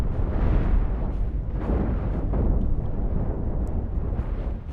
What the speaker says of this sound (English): as soon as they have missiles in them, they're launching them